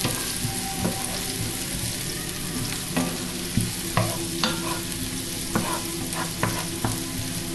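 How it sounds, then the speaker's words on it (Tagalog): Onions sautéing in a pan for Indian-style fried rice, a continuous dense sizzle with occasional clicks and scrapes of a spatula stirring, close up and without talk. "So, una, igigisa natin yung sibuyas."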